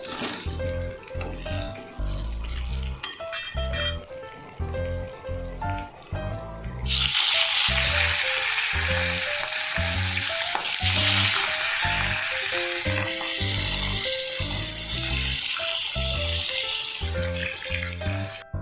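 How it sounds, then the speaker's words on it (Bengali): Fish heads frying in hot oil: rhythmic clattering and thuds of turning the pieces come first, then a loud, dense sizzle and crackle of oil swells and holds for the rest of the clip. "আবারও যেদিকে আছে মাছের মাথা, ওই দিকে আবারও এরকম একই পদ্ধতিতে ভেজে নেব।"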